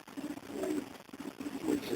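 Racing pigeons coo repeatedly inside a loft, soft low rolling calls in a steady rhythm, close by, with no talking.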